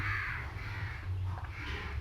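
A crow caws close by, a harsh nasal call repeated in a couple of rough bursts over a steady low background hum.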